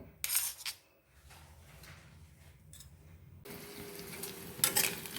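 Crushed garlic and green chillies sizzle and fry in an iron wok, with stirring and scraping of a utensil against metal, quiet overall with brief louder bursts.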